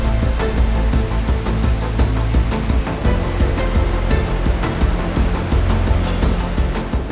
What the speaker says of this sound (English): Water shooting 100 feet in the air